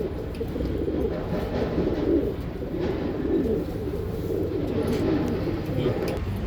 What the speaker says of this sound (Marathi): हे कबूतर बघू शकता.